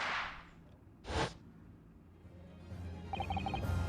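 A sharp firework pop like a gunshot from the video game Great Ace Attorney 2: one short, loud crack among faint game sounds, with brief chiming tones near the end.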